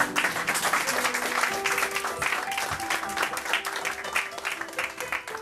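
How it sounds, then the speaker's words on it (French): An audience at a poetry evening claps steadily for the pianist, a close, continuous burst of applause with faint background tones beneath it. "Applaudissez-le s'il vous plaît."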